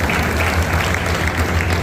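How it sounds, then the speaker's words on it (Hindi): Dense, steady applause from an audience welcoming a guest at an official gathering, loud and close and continuing throughout with no break. "उनका भी तालियों से स्वागत हो।"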